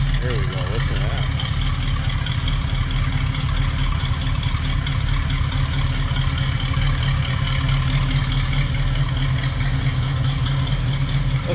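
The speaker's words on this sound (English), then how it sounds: "There we go, listen to that." The engine of a 1967 Pontiac Firebird Convertible idles steadily, a loud, even low rumble with a constant pulsing beat and no revving, running alone throughout.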